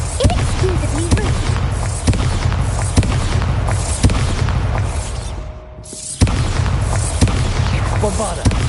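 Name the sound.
Bombarda blasting spell explosions in video game Hogwarts Legacy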